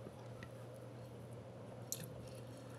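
Someone eating an evening meal, with soft, faint chewing and squishing close by over steady low hum, and one brief sharper crunch near the end.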